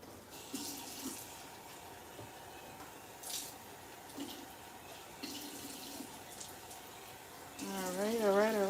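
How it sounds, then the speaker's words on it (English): Tap water running into a cooking pot in a kitchen while Liberian palm butter soup is made, a steady hiss under faint background sound, rising into a louder filling splash near the end. "I'm gonna put some water in here and rinse it."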